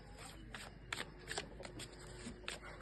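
A deck of tarot cards is shuffled by hand in a series of quick riffling bursts, each a short papery flutter, repeating through the clip under faint room noise.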